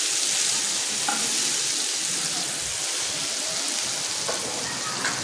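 Chicken steak sizzles loudly in a hot pan over high flame, a steady, dense crackling hiss that continues unbroken throughout, close up and with no talking.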